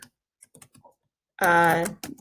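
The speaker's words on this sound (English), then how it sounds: "you'll just start typing, okay?" Keys clatter on a computer keyboard as a graduation letter is typed: a few sparse, quiet clicks, then a louder, denser stretch partly overlapped by a voice, ending with scattered taps.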